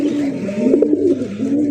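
Pigeons cooing up close, a continuous low throaty warble with rolling pulses, held at a Bogura fancy pigeon market among big-sized Bombay and racer goli breeds.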